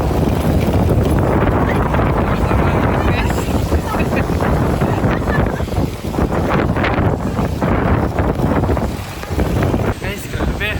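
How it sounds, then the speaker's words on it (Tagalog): Strong typhoon wind in Taiwan roars and buffets the microphone nonstop, loud and rough throughout, with voices faintly audible under the gusts. "sakto lang yung ulan pero yung hangin sobra Hangin yung malakas."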